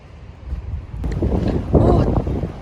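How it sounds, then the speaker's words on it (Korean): Strong wind gusting across a sandy beach campsite in Gyeongju, a rough broadband roar with buffeting against the microphone that swells and grows louder toward the end. "근데 바람이 너무 많이 불어서"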